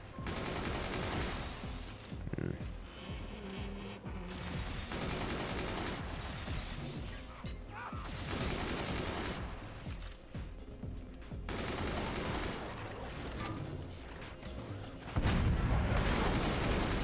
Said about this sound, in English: Fire everything. There we go. Howitzer for the win.